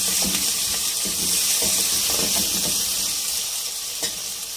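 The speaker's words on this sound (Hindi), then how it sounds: "अब हम इसमें ये अदरक, लहसुन और हरी मिर्चें डाल देंगे। साथ ही साबुत गरम मसाले भी डाल देंगे। चम्मच चलाएंगे, भूनेंगे।" Ginger, garlic, green chilies and whole garam masala sizzle steadily in hot oil for chicken pulao, with a spoon scraping and stirring in repeated soft knocks close by, no talking.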